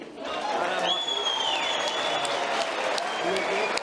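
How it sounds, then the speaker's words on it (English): Sustained audience applause at a football awards gala night fills the whole stretch, dense and steady, with a sharp whistle cutting through near the start. "Now here you can clap."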